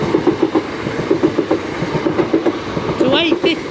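An eight-coach Class 375 electric train heading for Ramsgate rolls over a level crossing, rhythmic clickety-clack of wheels on rail joints close by, with a brief squeal near the end.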